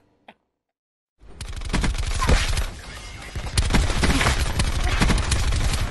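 Rifle fire in a video game after a brief click and a second of silence, bursting into rapid, dense volleys of shots that keep going loud and close to the end.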